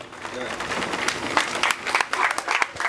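An indoor audience at a Bravector pet carnival breaks into scattered, uneven applause, claps landing irregularly and building through a few seconds alongside some background voices.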